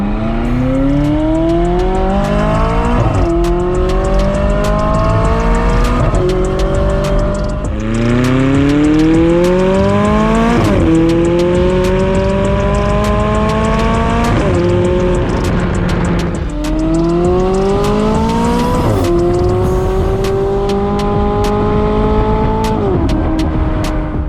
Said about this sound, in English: The noise from that engine and the hood exit exhaust pipes is just absolutely insane.